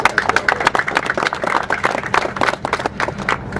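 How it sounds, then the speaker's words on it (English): Audience members at an outdoor press conference for a historic funicular railway's revival clap in a fairly sparse burst, individual hand claps distinct and close, fading slightly toward the end. "Let's give them a round of applause as well."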